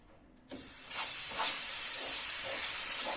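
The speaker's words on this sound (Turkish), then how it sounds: "Şerbetimizi şimdi yavaş yavaş ilave edeceğiz." Sugar syrup poured into hot semolina halva in a pan sets off a sudden loud sizzle and steamy hiss that rises, swells and keeps bubbling steadily at close range.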